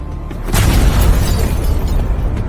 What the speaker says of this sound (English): With a follow-up explosion, Fenya shattered them all.